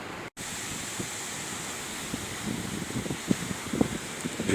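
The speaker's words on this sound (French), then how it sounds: "C'est le vrai déchaînement des vagues." Rough, roaring surf churns continuously, with waves breaking and rumbling in low bursts amid wind noise, no voices.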